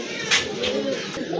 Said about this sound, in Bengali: অনেক সুন্দর টকটকা লাল এক জোড়া রাজগোল্লা কবুতর